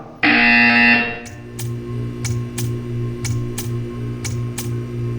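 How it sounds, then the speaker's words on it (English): A loud electronic buzz in Portal 2 sounds for about a second, then stops, followed by a steady low hum with faint, evenly spaced clicks. "You will hear a buzzer."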